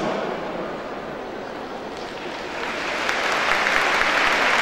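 Strong applause from an audience at a Şeb-i Arus commemoration in İzmit, a dense steady clatter of many hands that swells louder toward the end.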